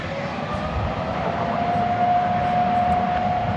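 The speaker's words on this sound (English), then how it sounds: "There's the Qantas Dreamliner, the Spirit of Australia, headed back to Sydney." Qantas Boeing 787 Dreamliner departing DFW Airport, a steady jet roar at moderate distance with a thin whining tone rising in, continuous and without talk.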